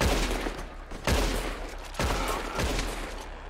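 Gunfire in the Red Dead Redemption 2 game comes as a quick burst of three loud, sharp shots at roughly one-second intervals, each followed by a rolling echo.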